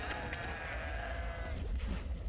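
Goat bleats in a goat video game, a steady game soundtrack and ambient noise running throughout with a brief bleat-like cry near the end.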